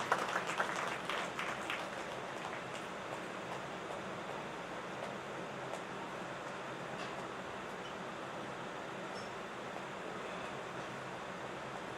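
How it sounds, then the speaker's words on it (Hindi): An audience at a Ram Katha religious discourse claps in a dense, continuous wash of applause that stays even and moderately distant throughout. "ताली बजा दीजिए।"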